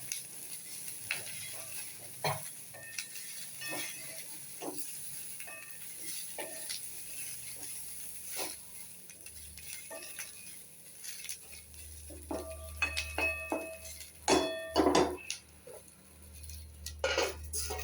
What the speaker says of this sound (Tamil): சிம்மில் வச்சு இந்த மாதிரி மெதுவாக தான் வதக்கணும்